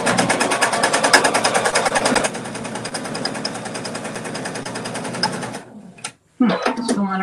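A sewing machine stitches a seam in a fast, even, rapid-fire clatter that runs for several seconds, then slows and stops, followed by a brief clunk and some handling noise.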